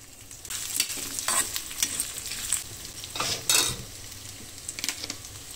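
Coriander seeds and red chillies dry-roasting in a pan for South Indian bisi bele bath spice, with repeated scraping stirs and soft crackling bursts, close and moderately loud, no talking.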